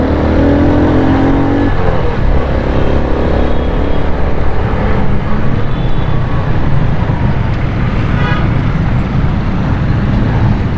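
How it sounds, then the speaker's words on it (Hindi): Dense road traffic rolls through Karachi near Kharadar, a loud, continuous mix of car and motorcycle engines with passing vehicles and occasional horn-like tones, close by. "लेकिन ट्रैफिक चलती रहती है यार।"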